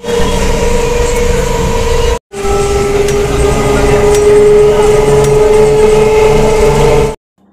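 Ride on a local train out of Howrah, a loud continuous rumble and drone of the moving carriage with a steady hum and occasional clanks, cut by one brief gap and ending abruptly.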